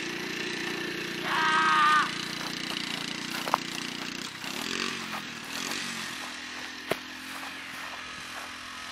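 A three-wheeler being ridden, its engine buzzing and revving steadily at a moderate distance, with pitch rising and falling through gear changes and a couple of sharp clicks or knocks.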